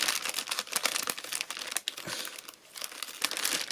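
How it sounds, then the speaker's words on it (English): Plastic bag full of die cuts crinkling and crackling as it is handled and rummaged through, continuous close rustling with sharp crunchy bursts throughout. "Sorry the bag's so rattly."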